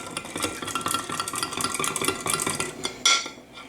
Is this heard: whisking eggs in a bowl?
yes